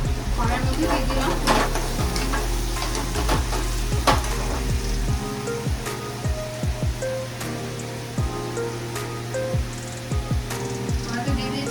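Okra coated in a yogurt and spice mix hits a hot wok, sizzling and crackling loudly and continuously with scattered sharp pops and scraping stirs.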